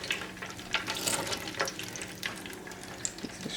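Pieces of crab and shrimp deep fry in hot oil, giving a steady, dense crackling sizzle with scattered bright pops throughout.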